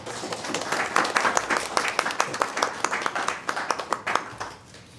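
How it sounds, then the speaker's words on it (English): A small school board audience applauds its directors with scattered, uneven hand claps. The clapping runs for several seconds at moderate loudness, then thins out and fades near the end. "we give our directors a round of applause?"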